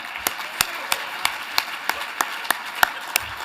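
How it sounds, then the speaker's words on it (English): Scattered audience clapping at an awards ceremony, heard as a sparse string of individual sharp claps about every third of a second over a low room murmur, fairly faint and steady. "Let's give another round of applause to Susie Wargin"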